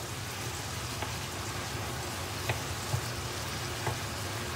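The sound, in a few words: supermarket mince frying and braising in a pan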